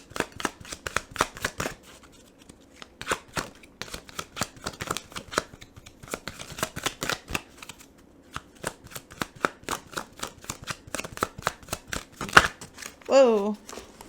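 Tarot cards being shuffled in a steady run of crisp riffling flicks and slaps, close and fairly quiet, with a brief pause midway and a short spoken exclamation near the end.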